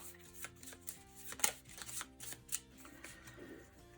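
Playing cards are shuffled for the Direwild board game, a quiet close-up series of riffling flutters and light taps, with one sharper snap partway through, no talking.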